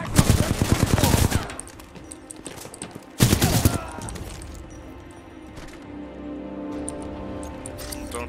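Combat in the video game Titanfall 2 brings two loud bursts of rapid automatic gunfire, the first about a second long and the second shorter, separated and followed by quieter ambient sound.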